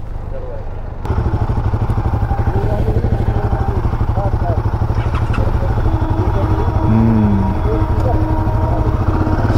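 Suzuki V-Strom 650 motorcycle starting up and then running with a steady, throbbing twin-cylinder engine rumble, loud and close throughout, with a rider's voice briefly over the engine.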